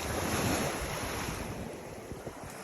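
Ocean surf washes continuously onto a beach in Canada, a broad, steady rush of breaking waves with wind buffeting the microphone, close and fairly loud, with no voices.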